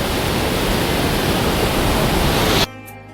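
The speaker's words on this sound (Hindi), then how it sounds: "बहुत तेज़ बहाव है पानी का।" Fast-flowing water of the Banganga river rushes as a dense, loud, continuous roar close by, cutting off abruptly near the end.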